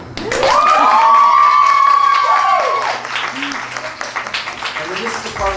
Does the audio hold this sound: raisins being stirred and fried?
no